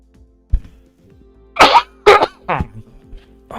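A person coughing near a microphone during a racing game livestream, a few sharp harsh bursts in quick succession followed by smaller throat sounds, loud against a quiet background hum.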